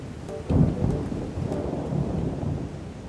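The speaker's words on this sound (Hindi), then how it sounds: "अचानक से काफ़ी ज़्यादा तेज़ बारिश होना स्टार्ट होता है" Heavy rain pours steadily near Havelock in the Andaman Islands, with a low rumble of thunder swelling early on under the constant dense hiss of the downpour.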